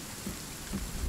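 Rain pours steadily in the video game Sons of the Forest, a dense continuous hiss with low rumbling swells beneath it, holding a constant loud level throughout.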